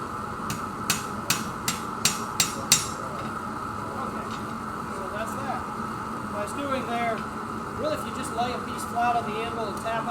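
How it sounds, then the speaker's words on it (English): A blacksmith hammers steel on an anvil while shaping a spatula, six sharp ringing blows in a quick even rhythm at the start, followed by quieter clinks under steady background hum and someone talking. "I'm hammering here and pulling up back here with the tongs just a little bit to get a little bit of a bend"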